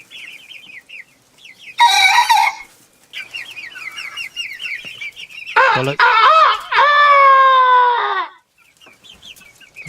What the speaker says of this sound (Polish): Koguty pięknie pieją, ale to jest malutki, dopiero zaczyna